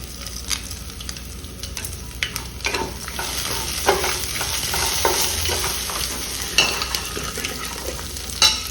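Black pepper, a small piece of cinnamon and a few cloves fry in hot oil for a masala sambar, giving a steady close sizzle broken by light stirring scrapes and ticks throughout.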